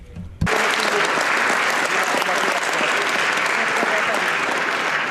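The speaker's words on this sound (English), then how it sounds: "Yes, applause, quite right." A sudden burst of applause from delegates at a European plenary conference starts after a brief quiet moment, then dense, loud clapping from a large crowd continues evenly to the end.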